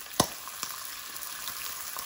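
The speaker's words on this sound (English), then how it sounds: "so frying up the bacon" A steady close sizzle of maple bacon frying in a pan, with a few sharp crackles and pops over the constant hiss.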